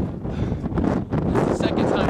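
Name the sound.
strong wind howling in Patagonia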